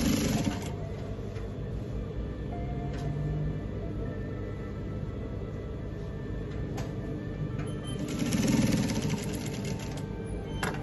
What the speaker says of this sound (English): So sew below and then back stitch, you turn.